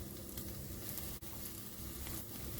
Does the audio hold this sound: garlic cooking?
yes